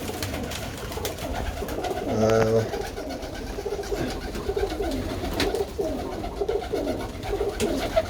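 Birmingham Roller pigeons in a loft coo in low, repeated rolling calls, one louder burst standing out near the middle, while someone talks over them throughout.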